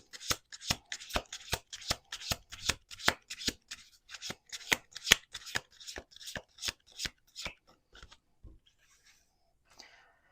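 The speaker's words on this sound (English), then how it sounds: "we're going to do 2 more shuffles" Rapid crisp riffle-and-bridge card shuffling close up, repeated bursts in quick rhythm, then trailing off into quiet with a few faint rustles.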